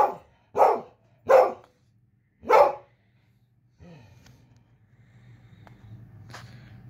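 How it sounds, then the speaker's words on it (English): A pet dog barks and whines at its owner during gaming: four loud, sharp barks in the first three seconds, then softer, drawn-out whining and low grumbling sounds. "I cannot play one game or do anything without her whining or barking at me."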